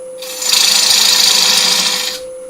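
Gouge cutting wood on a spinning wood lathe during colourful eccentric woodturning, a loud continuous hissing shear that starts abruptly, holds steady for about two seconds over a faint motor hum, then stops.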